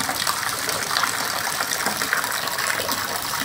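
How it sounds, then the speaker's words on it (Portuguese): Heavy rain pours down steadily in Santa Luz, Bahia after falling through the night, a dense, close, continuous hiss and splashing gush with no pauses. "É chuva desde ontem à noite."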